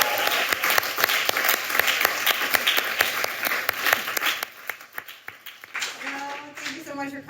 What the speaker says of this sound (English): let's just give a round of applause to Tammy Wilkie.